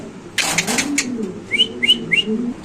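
Domestic pigeons, including white Mundian and Lahori breeds kept for sale, coo in low throaty rolls close by, with a few sharp chirps and a brief flutter of wings at the start.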